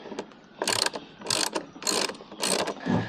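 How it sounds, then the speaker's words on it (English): Ratchet clicking in quick bursts while unscrewing the loosened bolts on a Niagara backpack sprayer, four or five close, crisp runs of pawl clicks with brief pauses between them. "we have the bolts loose, and now we're just gonna unscrew them out"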